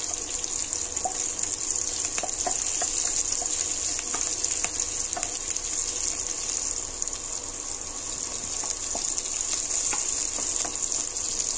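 Onion fries in a pan for a taro-leaf fry dish, giving a steady, bright sizzle with scattered small pops and crackles, close and continuous throughout, without speech.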